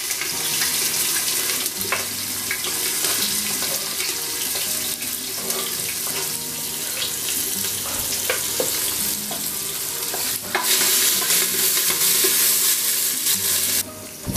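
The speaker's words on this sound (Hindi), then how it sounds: "फ्रेंड्स, जैसे ही जीरा हल्का ब्राउन हो जाए हम इसमें चॉप्ड अनियन, गार्लिक, जिंजर और हरी मिर्च डाल देंगे।" Chopped onion, garlic, ginger and green chilli sizzle in a little oil with cumin while being stirred, a steady close frying hiss with occasional scraping knocks of the spoon in the pan.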